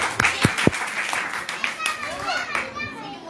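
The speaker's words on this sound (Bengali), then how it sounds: "বাহ, সবার জন্য একটা হাততালি হয়ে যাবে।" Children in a class reciting Gita verses break into brief applause, with a few sharp claps near the start followed by scattered patter and lively children's voices talking over it.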